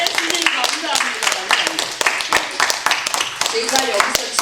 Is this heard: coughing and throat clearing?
no